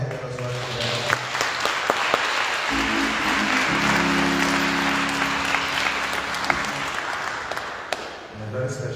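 A Catholic church congregation claps for first-time worshippers at Sunday Mass, steady crowd applause running throughout with sustained organ-like tones sounding underneath and a voice coming in near the end.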